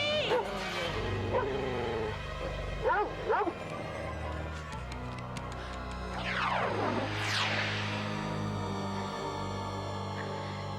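Dogs in a Goosebumps TV episode about a barking ghost let out short yips, whimpers and bow-wow barks in scattered bursts, set against a steady low background score.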